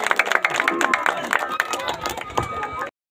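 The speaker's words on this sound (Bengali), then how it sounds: "সবাই একটু করতালি দেন।" Onlookers at a raft-race prize-giving in Gangaprasadpur, Rajbari, clap in quick, uneven bursts under a loudspeaker voice. The claps are strongest at the start, thin out, then stop abruptly.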